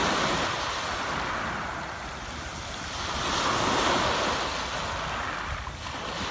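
Ocean waves wash in a continuous roar, swelling and easing, with wind blowing across the microphone and no voices.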